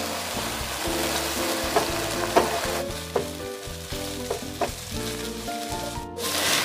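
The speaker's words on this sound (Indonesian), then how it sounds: "Ditumis-tumis sampai bumbunya ini matang, sampai aromanya harum ya teman semua." Ground spices for a peanut sauce sizzle steadily in a pan over lowered heat, with scraping stirs and occasional sharper clacks of a utensil against the pan, loud and close.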